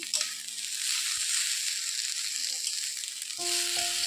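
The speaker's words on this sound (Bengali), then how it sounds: "এই দেখো আমি চালে ডালে ভেজে নিচ্ছি।" Rice and lentils fry in a pan for khichuri, a bright, continuous sizzle with scraping and stirring sounds, opening and ending with short tonal clinks as a utensil touches the pan.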